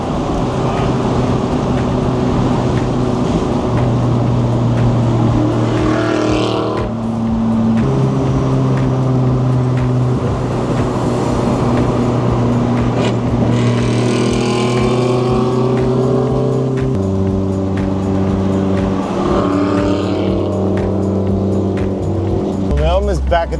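Race car engine holding steady tones that step between gears while driving, loud and continuous throughout, with some talk beneath it.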